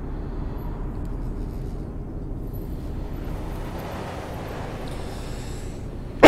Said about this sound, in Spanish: Se oye los coches como si hubiese yo la ventanilla baja